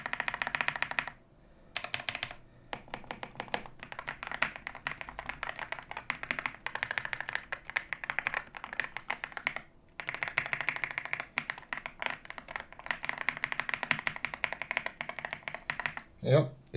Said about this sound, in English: So I'm just gonna be pressing some keys right now.